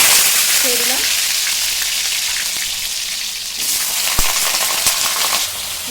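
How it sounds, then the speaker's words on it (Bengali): Potatoes frying in hot oil seasoned with dried red chili and cumin, a steady dense sizzle running throughout with a few soft stirring knocks near the end. "আগে আমি কটা আলু ভেজে নেবো"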